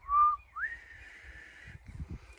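A person whistles a short tune meant to imitate wind: a brief rising note, then a long sustained tone, with soft low thumps and rustling underneath.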